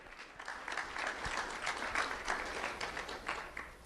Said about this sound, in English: Round of applause for Adeline Costello.